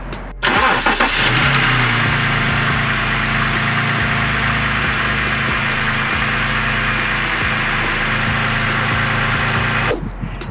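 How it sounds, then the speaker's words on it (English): A 2009 BMW 128i cranks briefly and starts, then settles into a loud, steady idle that continues to the end, close to the microphone with no talking. "all you gotta do now is start the car."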